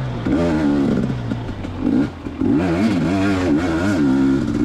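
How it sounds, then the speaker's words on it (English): A 250cc dirt bike rides off-road, its engine loud and close, revving up and down in repeated surges with a brief dip before climbing again, no talk over it. "Pretty good day to ride dirt bikes."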